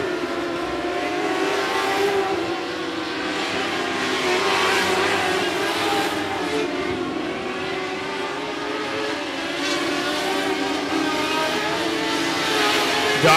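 A race car at 105 Speedway, a short oval track, drives out of a corner with a loud, steady engine roar that holds for the whole stretch, amid broad track and crowd noise.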